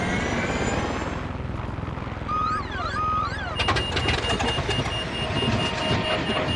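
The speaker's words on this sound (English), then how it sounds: "Why'd my airplane just shut off?" An aircraft engine in the Far Cry 6 video game drones steadily and then cuts out, leaving a mechanical clatter and rattling in its place. The sound is close and continuous, and no one speaks.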